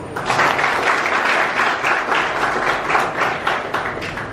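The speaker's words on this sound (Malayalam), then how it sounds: "ഒരു വലിയൊരു കൈയടി കൊടുക്കുക." An audience at a public function gives a big round of applause, dense, steady clapping that fills the room for several seconds without pause.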